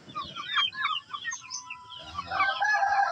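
Growing Parawakan chicks cluck and chirp close by, a busy overlapping mix of short calls from several birds.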